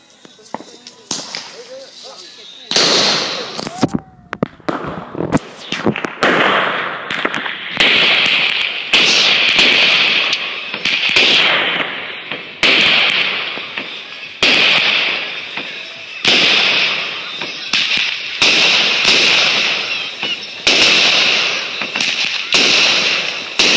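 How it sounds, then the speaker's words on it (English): Fireworks and firecrackers go off in a dense, rapid series of sharp bangs and crackling bursts, loud and close, at a new year show, with people talking and exclaiming now and then. "They're like a little big fireworks."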